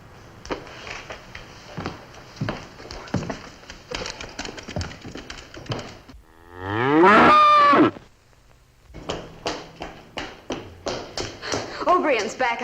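Cattle lowing during branding on a Western ranch, one loud drawn-out moo standing out between stretches of talk and tapping, with hooves clopping faintly nearby.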